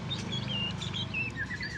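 A caged white-rumped shama sings a series of clear, high whistled phrases over a steady low background hum, moderately near and without any talking.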